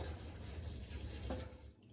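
Water pours from a tap into a pot of fruit, a brief, steady rushing fill at moderate volume, heard alone without talk.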